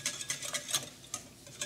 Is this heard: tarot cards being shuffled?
no